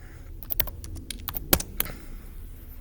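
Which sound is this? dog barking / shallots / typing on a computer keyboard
typing on a computer keyboard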